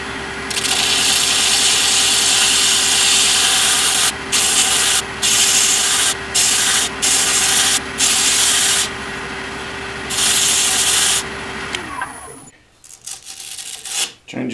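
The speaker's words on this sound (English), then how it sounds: "put a little sandpaper on there. And just start working on the bottom." Sandpaper rubs against the bottom of a wooden bud vase spinning on a lathe, a loud continuous hiss of abrasion over a steady motor hum, broken by several brief pauses before the sanding stops and the machine winds down.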